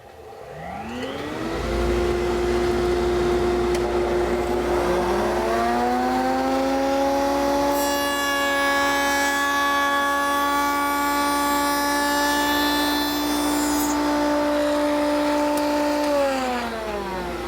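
A woodshop dust collection system spins up with a rising whine, then holds a loud, steady motor hum and airflow roar before winding down near the end, with no voices.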